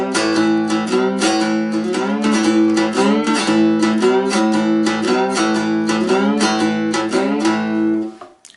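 Two-string cigar box guitar playing the opening bars of a twelve-bar blues, with a steady rhythmic strummed pattern and bending melodic notes, loud and close, ringing out at the end.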